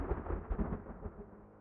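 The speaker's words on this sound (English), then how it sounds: "The sudden thunder brings her back to reality." Thunder rumbles in the video game Reverse 1999, a low, muffled rolling boom with several swells, fairly faint and with no voices.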